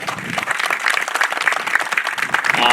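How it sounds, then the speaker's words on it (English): Sustained applause from an audience at an Acushnet Board of Selectmen inaugural ceremony, honouring the town and its Chief, a dense steady patter of many hands filling the room throughout. "So I'd just like to give a nice round of applause again to them."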